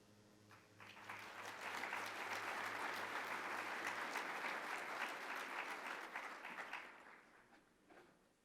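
An audience at an economic forecast event breaks into sustained, loud applause, swelling quickly, holding steady for several seconds, then fading out near the end.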